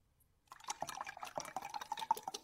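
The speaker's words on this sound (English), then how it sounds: "I'm just going to go ahead and pour it all back into a beaker, and on top of it, I'll add some ice-cold isopropyl alcohol." Ice-cold isopropyl alcohol poured into a laboratory beaker, a steady close liquid trickle with small splashy drips that starts after a brief silence and continues alone to the end.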